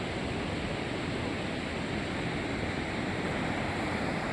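A clear river in the Keran valley rushes beside an unpaved dirt road, its steady broadband roar filling the air continuously and evenly at close range, with no voices over it.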